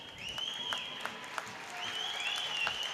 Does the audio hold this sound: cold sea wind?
no